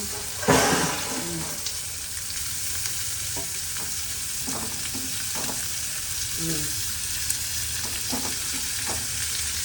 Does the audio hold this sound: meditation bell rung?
no